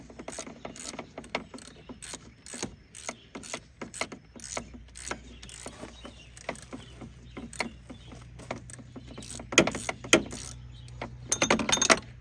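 A wrench working a bolt out of the power steering pump bracket on a 2003 Subaru Outback, a run of quick, close ratcheting clicks with metallic taps and clunks, growing louder toward the end.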